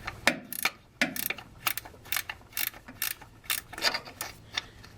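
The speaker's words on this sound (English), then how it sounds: "Now we want to remove our transfer mounting bolts" A ratchet loosens transfer case mounting bolts on an '87 Chevy S10, giving a quick, steady series of close clicking strokes with slight pauses between them.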